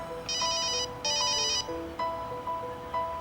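A phone ringtone plays in repeated short electronic bursts, a two-part tone pattern cycling with brief gaps, clear and fairly close.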